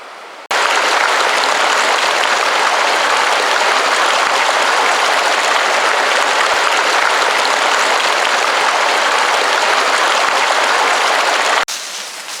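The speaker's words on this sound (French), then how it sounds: "Donc là on a le ruisseau qui est juste là derrière." A forest stream beside a bushcraft bivouac site rushes in a loud, steady, close wash of water that holds unbroken for several seconds before cutting off.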